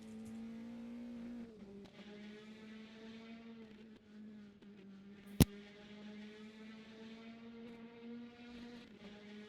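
Praga R1 and Ginetta GT5 race cars circulate at Autodrom Most, producing a steady, moderately distant engine drone whose pitch dips and rises slightly as they shift and accelerate, broken once by a sharp click.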